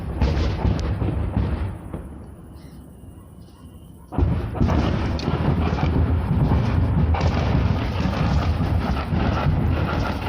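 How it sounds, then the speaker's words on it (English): Artillery shells exploding on target in the Bakhmut shelling: heavy, rumbling booms at close range, broken by a quieter lull with wind buffeting, then a long, loud, continuous rolling roar of detonations. "You can hear sounds here of those shells exploding on target in Bakhmut."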